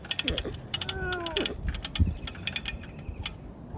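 Harbor Freight ratchet winch straining to pull a ground stake, giving a series of close, sharp mechanical clicks and clanks with a few squeaky metallic groans in between, irregular and short.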